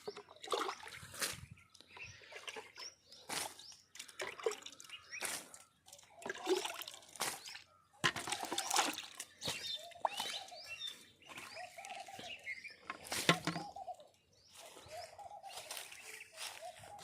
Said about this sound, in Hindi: इस तरह से हम इसमें जीवामृत डाल रहे हैं आज।